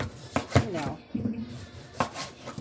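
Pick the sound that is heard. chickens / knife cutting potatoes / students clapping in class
knife cutting potatoes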